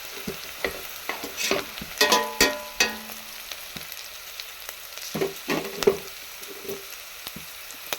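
Ginger garlic paste sizzles in a hot pan while a spoon stirs and scrapes in short bursts, close and moderately loud, with no speech.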